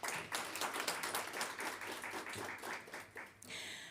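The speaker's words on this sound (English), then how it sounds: "Please, let's clap for them." A ceremony audience claps together in sustained, dense applause that holds for several seconds, then fades near the end as the room settles.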